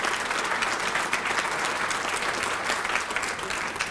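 Steady audience applause at a Rotary Club meeting in Louisville, a dense, even wash of many hands clapping at close range throughout, with no talk over it.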